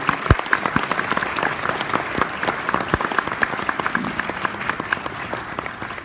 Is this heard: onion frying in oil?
no